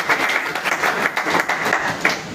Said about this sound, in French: Est-ce que vous voulez nous faire acclamations sur le début musical?